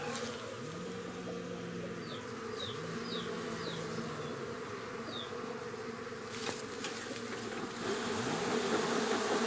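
Honey bees from a weak hive buzzing steadily and close, a dense continuous drone with individual bees swooping past, outdoors and without talk.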